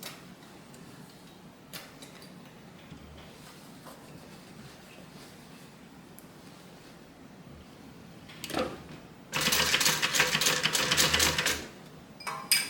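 A sewing machine stitches a bag seam, running in a loud, fast, rapid burst near the end after quieter handling sounds and faint ticks.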